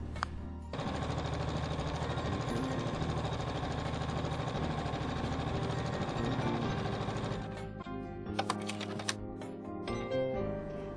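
A computerized embroidery machine stitches a small paisley motif, a fast steady mechanical rattle of the needle that runs unbroken for several seconds, then stops and gives way to a few scattered clicks and handling noises.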